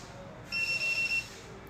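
A banknote counting machine's shrill fake-note alarm beeps in short pulses for under a second over a quiet background hum.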